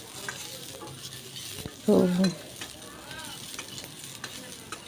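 Cumin seeds and black peppercorns frying in a pan give a steady, close sizzle with a brief louder burst in the middle, while a voice speaks briefly.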